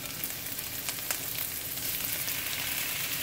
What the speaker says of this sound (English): So I'm just gonna saute these for a little bit before we add in our shrimp.